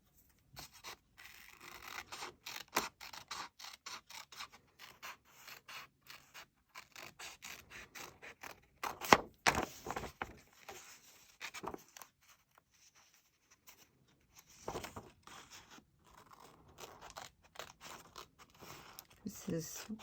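Scissors cut out a decorative paper heart for Bible quilting, making quiet, irregular crunchy snips and paper scrapes in bursts with short pauses between them.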